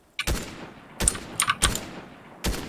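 Four separate gunshot bursts from a Fortnite No Build duos match, each a sharp loud crack with a short tail, spaced irregularly across the moment with quiet gaps between them.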